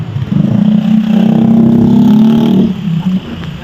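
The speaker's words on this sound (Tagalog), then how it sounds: "medyo maingay lang dito kasi maraming mga sasakyan dumadaan" A vehicle engine roars past nearby, rising and holding loud for a couple of seconds before fading, like traffic rushing along a highway.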